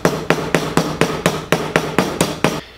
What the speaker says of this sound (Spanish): Apoyamos ahí las dos chapas a unir, y lo que vamos a hacer es empezar a martillar